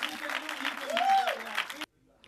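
Fans of finalists at a televised acting show's grand finale cheer and applaud in TV3's Executive Theatre, a dense burst of clapping and cheering with a rising whoop that cuts off abruptly, with voices mixed in.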